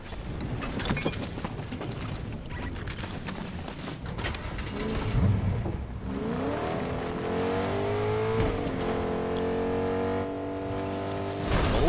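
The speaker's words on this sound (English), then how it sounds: "I'm gonna take the car over there in a second." A car in the Fortnite video game drives along, its engine humming and revving steadily and rising in pitch toward the end, with clattering mechanical noise early on.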